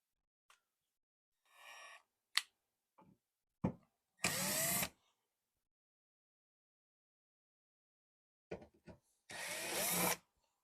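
A power driver runs in two short bursts on T15 Torx fasteners holding the taillight assembly of a 2015-2020 Yukon XL Denali, separated by quiet pauses and a few small clicks and handling taps.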